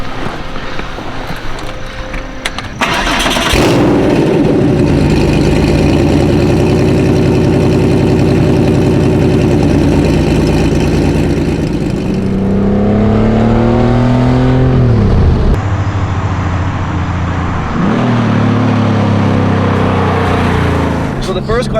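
An air-cooled Porsche 964 fitted with a 993 GT2 body kit drives off, its flat-six engine starting up and droning steadily at close range, then rising and falling in pitch through gear changes and revs.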